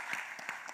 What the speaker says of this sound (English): And applause for both presenter.